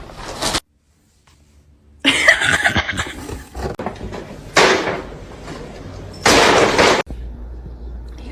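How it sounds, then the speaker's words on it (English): A cat retches and hacks up a hairball in several harsh bursts separated by pauses, close and fairly loud, with faint background noise between the fits. "she has a hairball in her mouth"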